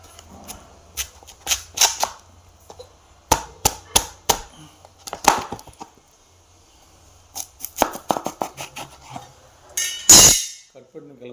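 A knife cutting and peeling elephant foot yam, sharp crisp chops and clinks in irregular bursts with short pauses between them, ending in a louder scrape.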